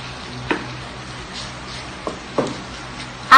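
Fish dropped into hot coconut oil in a pan for a Cambodian dish, giving a steady low sizzle with a few sharp pops and stirring clatters, the loudest burst at the end.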